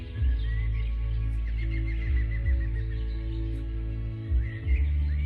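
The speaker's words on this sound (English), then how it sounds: "See if you can hear when the cuckoo bird goes cuckoo" A cuckoo calls in the woods, heard as faint, repeated bird notes above a loud, steady low drone that fills the background.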